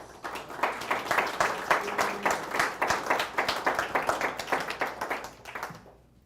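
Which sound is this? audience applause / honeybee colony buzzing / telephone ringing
audience applause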